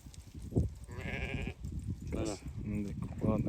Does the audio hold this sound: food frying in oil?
no